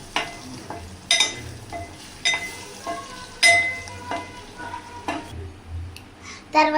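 A spoon stirs beans curry with ginger in a pan, giving a run of scraping clinks and soft knocks at an uneven pace over a low steady sizzle, close and moderately loud, with no talk.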